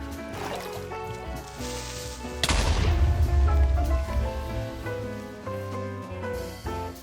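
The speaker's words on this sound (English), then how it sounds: "Oh, fireworks." Fireworks go off in the Minecraft video game: a single loud, sharp blast with a crackling, rumbling tail bursts in over steady background game music.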